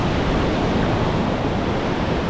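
Rough ocean surf and waves churn continuously with a dense, loud wash of noise at an ocean beach where the surf is rough and wind is present, with no pauses or voices.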